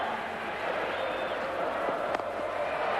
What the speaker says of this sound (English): listen to that crowd come alive